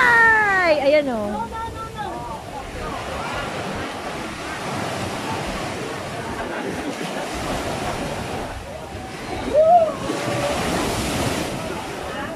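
Big surf rolls and crashes continuously on a beach in Nasugbu, Batangas, with wind buffeting the microphone; voices exclaim and chatter over the roar of the waves.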